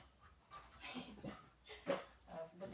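A dog whimpers and pants softly in short, uneven bursts, fairly quiet and close, with faint background noise.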